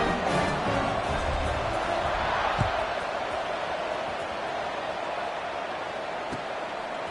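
A stadium crowd roars steadily before a college football kickoff between North Carolina and Florida State, a dense, continuous wash of cheering and noise with a few brief thumps, loud and sustained throughout.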